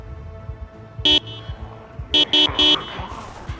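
Car horn honked in the zombie survival game Project Zomboid: one short blast followed by three quick bursts in a row, loud and close, over low engine rumble and game ambience.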